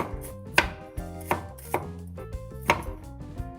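A knife chops shallots on a board in a handful of sharp, uneven strokes, close and fairly loud, over a steady tonal background of music.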